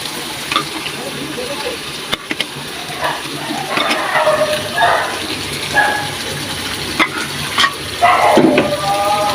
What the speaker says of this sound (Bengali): ভেজে রাখা আলুগুলো আমি মাংসের সাথে অ্যাড করে দিলাম